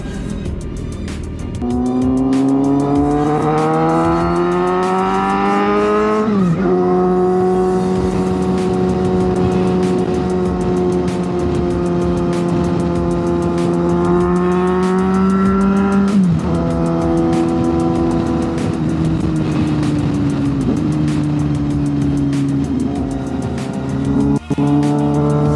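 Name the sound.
motorcycle engine revving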